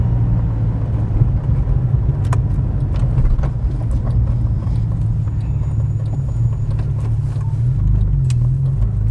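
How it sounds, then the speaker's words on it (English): A Porsche 911 Gemballa GTR BiTurbo engine rumbles steadily as it drops through a gear, with occasional clicks and knocks from inside the cabin; no one speaks. "Oh, how smooth of a downshift."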